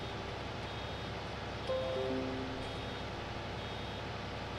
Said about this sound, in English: It's beeping at me